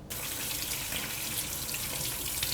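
A faucet runs steadily into a sink as hands are washed with soap before eating, a close, continuous hiss of flowing water with no talk over it.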